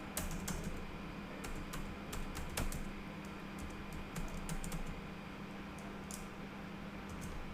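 Computer keyboard keys tapped in short bursts of crisp, close clicks over a steady hum of background noise, typed while entering a chart name in data-visualisation software.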